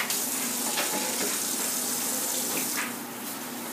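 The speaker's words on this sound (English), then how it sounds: "turn the water on." Tap water runs through a handheld rinsing wand into a bucket for washing hydroton clay pebbles, a steady close hiss and splash that softens slightly toward the end.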